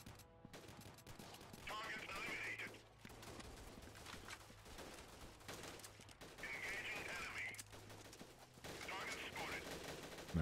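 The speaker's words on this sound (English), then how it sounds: "there we go. We get some shooting again." Gunfire during a factory defense in the video game Freeman: Guerrilla Warfare, with repeated rifle and machine-gun bursts crackling at close and middle distance and a voice talking in between.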